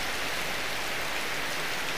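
Heavy rain pours down as a constant, dense hiss, loud and unbroken, with no voices.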